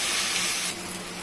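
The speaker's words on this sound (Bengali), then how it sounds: "দিয়ে আরেকটু ভাজা ভাজা হবে।" Taro leaf ghonto with dried chillies sizzles in a frying pan, a bright continuous hiss that drops abruptly in loudness partway through and carries on more softly.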